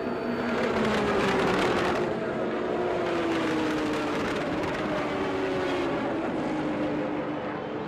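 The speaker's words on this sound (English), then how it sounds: "the field approaches turn 3 on the pace lap" The 1991 Indy 500 field of race cars on the pace lap approaching turn 3, a loud, continuous droning of many engines whose pitch slowly rises and falls as the pack passes.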